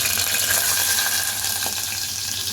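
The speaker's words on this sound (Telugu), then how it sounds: "ఇప్పుడు రొయ్యలు అనేది ఇంతలో వేస్తున్నాను" Raw prawns drop into hot cooking oil for a chicken and prawn dum biryani, setting off a loud, steady, close sizzle and crackle that holds for the whole moment, with no talking.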